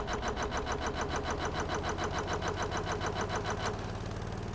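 A boat or vehicle engine in the Stormworks: Build and Rescue game cranks and runs with a loud, steady, rhythmic chugging pulse that continues throughout, alone without any voices.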